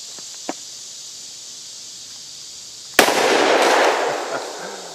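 A Smith & Wesson 629-4 .44 Magnum revolver is fired outdoors at a pot: a single loud, sharp report with a long, rumbling tail, after a quiet stretch of faint ambience and a small knock.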